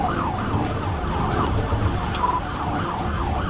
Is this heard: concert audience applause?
no